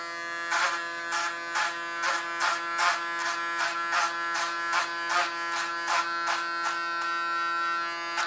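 A Panasonic electric hair clipper buzzes steadily while cutting thick hair in a bob haircut, its tone bogging in a regular rhythm of about two strokes per second as it works through the hair, close and clear.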